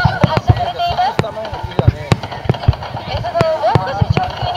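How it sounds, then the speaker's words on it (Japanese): Fireworks launched out over the sea during the Kashiwazaki fireworks display, heard as a run of sharp launch thumps and crackling pops at irregular intervals, with a whistling rise in between, fairly close and loud. "海に向けて、海に向けて花火が"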